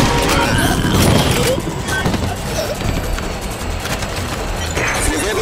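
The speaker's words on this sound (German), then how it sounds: "Wir werden zu stark beschossen." Gunfire in the shooter game TimeShift during a rooftop firefight, bursts of rapid shots and impacts layered with a voice speaking over the action, loud and dense throughout.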